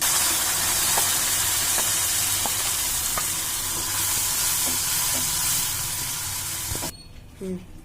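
Ginger garlic paste sizzles steadily in a hot pan for palak paneer, a broad continuous hiss with faint stirring ticks, close and loud, cutting off abruptly near the end.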